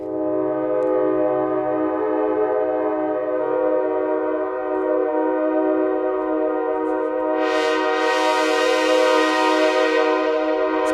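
A synthesizer imitates an Amtrak Acela K5LA five-chime train horn with one sustained, loud, layered chord that holds steadily and grows brighter and harsher near the end.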